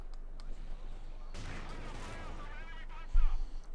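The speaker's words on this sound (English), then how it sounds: "Penetrating hit there from the Panzer IV on the Cromwell" A Panzer IV tank cannon lands a penetrating hit on a Cromwell tank in Company of Heroes 2, heard as bursts of battle gunfire and a heavy thud near the end, with talk throughout.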